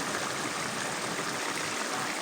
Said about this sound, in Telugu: ఇప్పుడు ఏంటంటే చింతపండు పులుసు అయితే పోస్తున్నాను